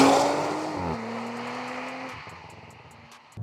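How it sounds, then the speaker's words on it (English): A 2024 Audi RS5 launching in a 0 to 60 mph acceleration run, its engine note climbing, dipping briefly at a gear change, then rising again as the car pulls away and fades. "Audi fitted this car with a 0 to 60 mile an hour acceleration test feature"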